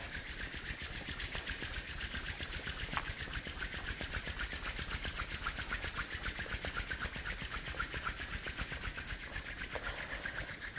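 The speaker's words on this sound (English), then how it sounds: "Release your hands and rub your palms each other." Palms rubbing briskly together to warm them, a fast, even swishing rhythm that continues steadily and fairly quietly at close range, with no voice.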